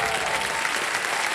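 Studio audience on a television quiz game show breaks into brisk, continuous applause, a short, steady burst of many hands clapping together.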